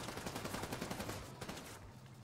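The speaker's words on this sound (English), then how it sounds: "Just start shooting it." Rapid automatic gunfire from The Division 2 rattles in a dense continuous burst, moderately loud, then trails off near the end.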